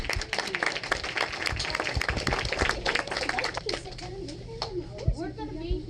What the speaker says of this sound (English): everyone give a round of applause for Colleen